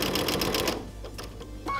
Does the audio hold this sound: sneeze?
no